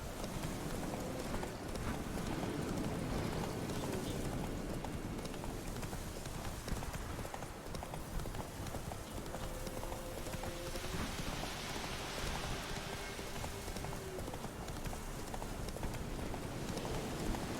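A horse gallops steadily in The Witcher 3, a continuous drumming of hoofbeats blended with rain pattering on the ground, constant and moderately quiet throughout.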